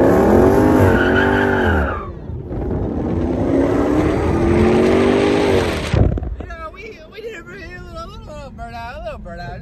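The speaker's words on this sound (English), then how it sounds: "should we do a donut today or should we do a little burnout today?" A car does a burnout, its engine revving hard while the tires squeal loudly and steadily for several seconds, then the noise drops away as people talk.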